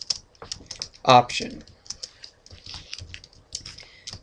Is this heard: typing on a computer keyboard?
yes